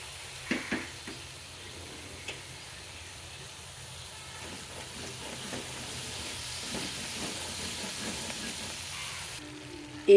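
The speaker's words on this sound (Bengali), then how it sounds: "সামান্য একটু জল দিয়ে দিলাম" Stuffed potatoes sizzle in a hot pan as a little water goes in, producing a soft steady frying hiss with light stirring clicks throughout, fairly quiet, and a louder bump at the end.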